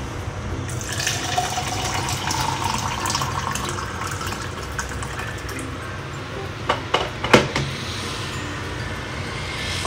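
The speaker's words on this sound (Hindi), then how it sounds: "पानी गर्म हो चुका है तो ले लेती हूँ अभी मेरे ग्लास में" Hot water pours into a glass in a home kitchen as a continuous close liquid rush, ending in a few brief clinks near the finish.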